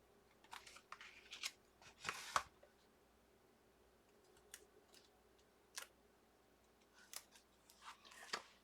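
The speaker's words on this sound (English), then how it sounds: "I think I need to trim it even further" Scissors snip through a paper template for a sewing folio in scattered, faint clicks and short cuts, with a few quick bursts separated by quiet pauses and no talking.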